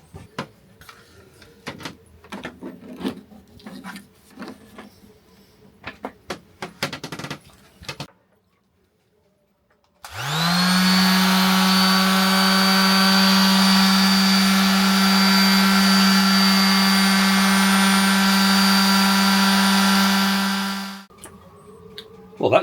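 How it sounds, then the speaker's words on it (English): A 160-watt orbital sander powered from a BLUETTI Elite 100 V2 power station aboard a boat starts abruptly after a short silence and runs at a loud, steady whine for about ten seconds before cutting off. Light handling noises come before it. "This is an orbital sander, says 160 watts."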